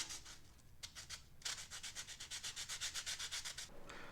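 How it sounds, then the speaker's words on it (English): Wooden edges of a soap saver being hand sanded, a close, fairly soft rasping rub repeated in quick even back-and-forth strokes, with a brief pause before a steadier run of strokes. "When I stick it in, I just lean it a little bit and kind of sand to kind of get those edges on both sides"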